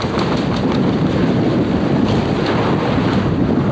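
Sailboat beating hard on the wind in an offshore race, with constant loud wind roar, rushing water and a fluttering sail, heard close and steady without speech.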